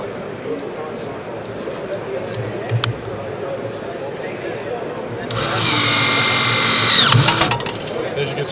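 An exploding peel rivet is set in steel banding material. A rivet tool whirs with a dense, steady mechanical buzz for about two seconds and ends in a sharp snap, with quieter handling noise before it.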